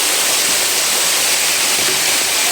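Water pours steadily at Boddugudem waterfall, a loud, dense, continuous rushing roar with no voices.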